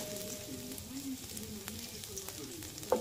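Ginger frying in a pan, a steady close sizzle with light stirring scrapes and a sharper clink near the end, faint talk underneath.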